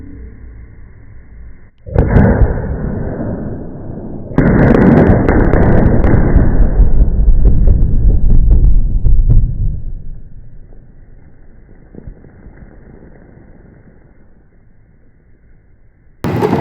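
Rock blasting on a domestic home building site near Mansfield with an eight-hole shot, a sudden loud blast followed by a sustained roaring rumble and debris clatter that slowly fades, with a second thump at the end.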